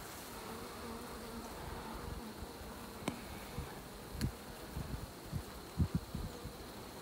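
A spring swarm of honey bees fills the air with a continuous, soft, close buzzing, with occasional light taps and rustles from the hive surroundings.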